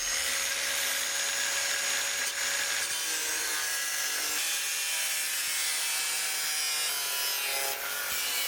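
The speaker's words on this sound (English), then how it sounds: "I tried to be frugal here and use this old oven tray I've had in the workshop for ages. And then I cut and bent it to shape." An old metal oven tray is cut to shape in a workshop for a van repair, giving a steady, continuous rasping and grinding with shrill ringing tones close by, running unbroken without speech.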